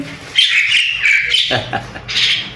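A talking myna bird letting out loud, close, shrill chattering calls in several bursts, with a person's voice heard briefly between them.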